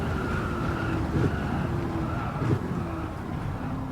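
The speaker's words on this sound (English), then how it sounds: "Feather that brake, because the rear wheels just squeal at us." Tires squeal under hard braking in a racing car in Gran Turismo 7, a thin sustained screech running over steady engine drone for several seconds, with brief louder bursts of noise.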